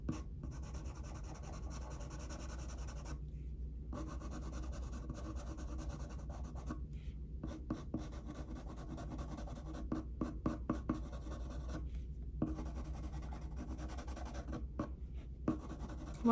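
A pencil shades on paper while a Christmas robin is drawn, giving steady close scratchy rubbing strokes that run almost continuously, with a few short pauses where the pencil lifts.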